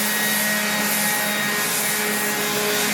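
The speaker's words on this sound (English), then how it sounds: "This is an orbital sander." An orbital sander works steadily on a Miata's body panels, giving a continuous close whirring, rubbing hum with a faint tonal whine and no pauses.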